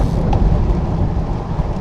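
Strong wind buffets the microphone while cycling on a freezing cold day, a loud continuous low roar with no talking.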